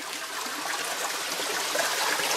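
Water from a waterfall stream rushes and splashes in a continuous close broadband wash, steady and fairly loud, with no voices heard.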